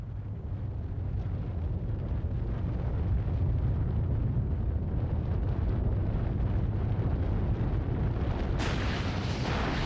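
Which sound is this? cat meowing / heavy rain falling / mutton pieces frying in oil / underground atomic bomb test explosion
underground atomic bomb test explosion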